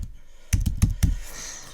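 Four or five crisp, close keystrokes tapped quickly on a computer keyboard after a brief pause, each click sharp and distinct, then quiet room tone.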